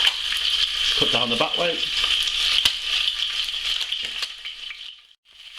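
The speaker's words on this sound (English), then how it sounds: "What we're going to do is start browning those off in that oil." Pigeon breasts brown in hot oil with a steady, loud sizzle, while a voice talks briefly over the frying.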